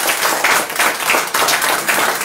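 Loud, close applause from a group audience, brisk and continuous with distinct individual claps pulsing through the dense wash of sound, no talking over it.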